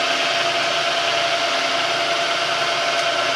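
Metal lathe spinning at about 700 RPM with a high speed steel tool, a steady broadband machine hum and whir, constant and fairly loud throughout without speech.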